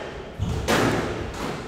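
Two dull thuds of a squash ball striking the court wall during a professional league match, close and fairly loud, over a soft indoor room hum.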